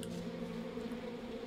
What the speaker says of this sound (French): Serait-ce l'arbre aux abeilles?